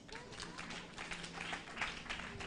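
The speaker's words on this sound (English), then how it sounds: "Clap for ourselves" A church congregation claps for itself, a faint, distant patter of many hands rolling on evenly for a couple of seconds with murmuring voices mixed in.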